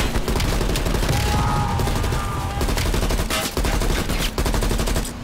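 Dense, loud automatic gunfire from the Call of Duty Black Ops Cold War video game, with rapid sustained bursts of shots and brief pauses, filling the whole stretch without speech.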